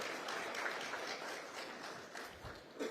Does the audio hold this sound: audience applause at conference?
yes